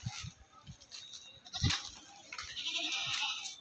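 A desi goat for sale bleats faintly among scattered thumps and farmyard background noise, with a brief louder cry midway; no clear talk over it.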